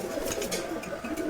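Pigeons coo softly and continuously in a loft of giribaz and racing pigeons, a low steady murmur of overlapping calls with faint rustling above it.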